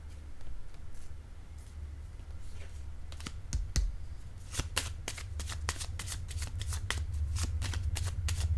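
Tarot cards are shuffled in rapid crisp riffles and flutters, then snapped down one by one, close and clear over a low background hum, with no one talking.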